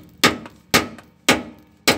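Hammer strikes on a wheel hub bushing of a Crosswind, four sharp loud blows spaced about half a second apart, each ringing briefly before decaying, close and alone.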